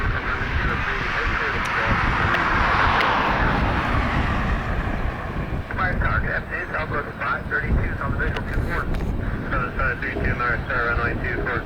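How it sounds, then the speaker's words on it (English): A Southwest Boeing 737-800 jet airliner with split scimitar winglets roars past at an airport, its engine noise swelling loud early and then easing as voices talk over it. "An aircraft exactly like this one, pretty much, because there was a 738 with split scimitar winglets."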